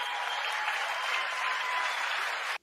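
Sustained applause with cheering in the chamber during the State of the Union address, a dense, even wash of many hands clapping that holds steady and then cuts off abruptly.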